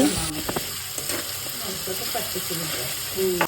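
Onions and ground spice paste fry in hot oil with a steady sizzle and hiss, stirred now and then with soft scraping and clinks, close by, while a person talks over it.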